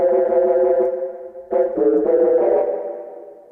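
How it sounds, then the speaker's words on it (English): Static synthesized tone built from wild feedback sounds, with added reverb: a sustained harmonic drone that restarts with a sharp attack midway, then swells and slowly fades into a lingering reverberant tail, heard alone. "So let's add a little bit of reverb,"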